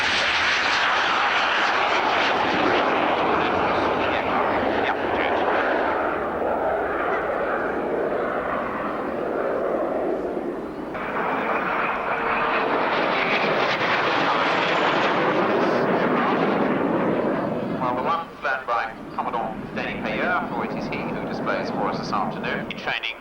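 A military jet performs a flying display at the 1990 RAF Abingdon airshow, its loud, continuous engine roar rising and shifting as it passes, with a commentator talking over it throughout.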